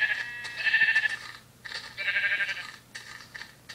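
Sheep bleat in Minecraft Pocket Edition: several loud, wavering bleats arrive in separate bursts with short quiet gaps between them, with no talk.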